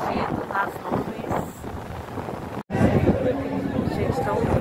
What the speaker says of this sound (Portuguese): está um vento aqui